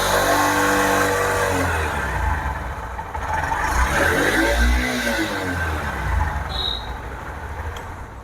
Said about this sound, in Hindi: थोड़ा सा एक्सीलरेट करके देखते हैं कि इसमें उसके बाद कैसा साउंड आता है।